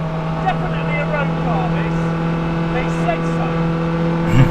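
A Porsche 963 RSP, a hybrid race car made road-legal, drones with a steady low engine hum as it drives, a constant deep tone with faint higher whines layered on top, growing slightly louder at the end.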